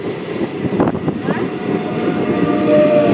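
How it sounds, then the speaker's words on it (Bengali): The Howrah–Rampurhat Shahid Express, hauled by a P5 electric engine, rumbles past close by, with loud, rising wheel and carriage noise continuing throughout. "হাওড়া রামপুরা শহীদ এক্সপ্রেস যাচ্ছে, ওটা P5 ইঞ্জিন।"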